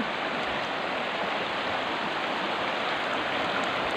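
River water in San Francisco, Southern Leyte flowing over rocks, a steady loud rushing and splashing close by with no breaks.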